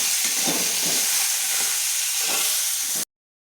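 Tomatoes tip into a pan of onions fried until red for a Maharashtrian moong sprout usal, bringing a loud, steady sizzle and hiss with soft stirring scrapes, running up to a sudden cutoff.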